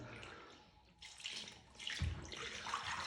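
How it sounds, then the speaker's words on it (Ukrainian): Water runs and splashes into a Geberit Clean Line linear shower drain in a newly tiled shower, a steady rushing flow that grows louder after a quieter start. "Бачимо, гарно вода стікає."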